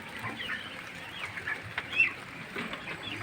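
Ducks quacking and chattering softly nearby at a chicken farm, their overlapping calls forming a steady, low-level murmur.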